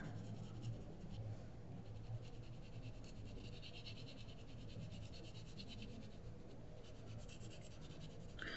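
Colored pencil shading on paper makes a soft, continuous scratchy rubbing, faint and steady throughout as strokes fade the color out into the paper, with no talking over it.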